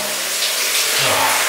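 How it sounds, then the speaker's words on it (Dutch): A shower runs at home, a steady broadband rush of falling water filling the whole short stretch with no voices, close and even. "ik ga even lekker douchen"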